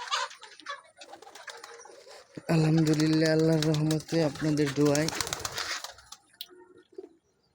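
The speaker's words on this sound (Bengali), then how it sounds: "এই তো কবুতর আছে" Domestic pigeons coo softly at a country poultry farm with local chickens, their low murmuring calls heard faintly beneath someone talking who dominates the middle.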